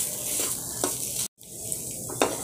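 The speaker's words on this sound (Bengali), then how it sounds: "সব মশলাগুলো এইভাবে আমি ভালো করে কষিয়ে নিলাম নাড়াচাড়া" Spices and pistachios are stir-fried in a pan, giving a steady close sizzle with soft scraping strokes and a brief cut-off partway through.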